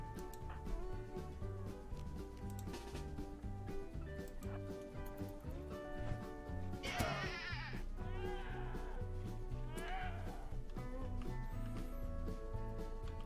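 Sheep bleating in the Rimworld video game: a few wavering bleats rise over continuous game music, clustered near the middle and again shortly after.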